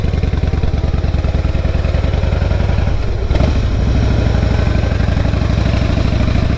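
A Harley-Davidson motorcycle engine pulses loud and close throughout a road ride, its rapid, even firing beat continuing without a break. One brief bump of wind or handling noise interrupts it partway through.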